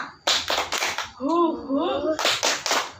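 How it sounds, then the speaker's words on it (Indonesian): Children in a classroom perform a rhythmic clapping routine: a few sharp, loud claps in quick succession, then a pause filled with chanted voices, then another tight run of claps. "Nih satu lagi, tepuk India"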